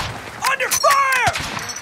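Gunfire in a video game firefight, with bursts of shots under and between shouted squad callouts over about two seconds, fairly close and loud.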